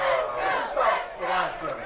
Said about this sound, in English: Great crowd here on hand despite the weather, as you can hear.